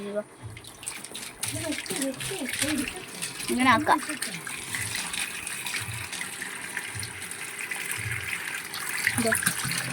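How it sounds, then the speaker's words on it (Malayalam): Water runs and gushes into a container in a steady stream, close by, while a person talks over it. "നമ്മൾ വെള്ളം നിറച്ചുകൊണ്ടിരിക്കുകയാണ്."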